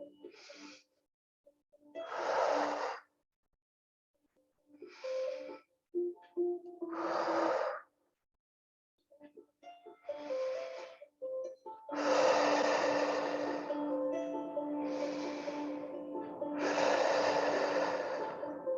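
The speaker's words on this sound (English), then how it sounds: "Let's take 5 more breaths." Slow deep yoga breaths, long audible inhales and exhales through the nose repeated several times with pauses between, close and breathy, the later breaths fuller and more continuous.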